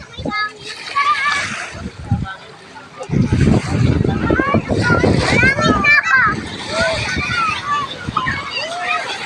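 Waves splash and wash in repeated surges at a shore, fairly close. Voices talk over the water and a voice is heard among them.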